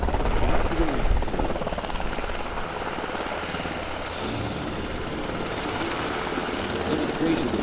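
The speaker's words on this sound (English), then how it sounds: "Now 2 of the UH-60 Blackhawks will be providing the overwatch for the soldiers as they mount their vehicles back to the land." A pair of UH-60 Black Hawk helicopters flying an airshow demonstration at Quonset, Rhode Island, give a loud, steady rotor thrum and whining engine roar throughout, with an announcer speaking over the noise.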